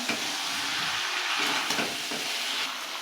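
Potatoes, chickpeas, cauliflower, capsicum, beans and carrot stir-fry in a pan, a close, bright sizzle punctuated by repeated stirring scrapes and clatters in an uneven rhythm, with no voices.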